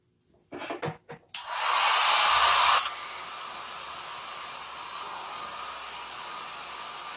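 A hair dryer blows on a chalk-painted Victorian skull lampshade: a few handling knocks, then a loud, close, steady roar for about a second and a half, dropping to a quieter continuous whir.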